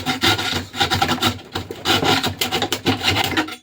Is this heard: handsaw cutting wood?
yes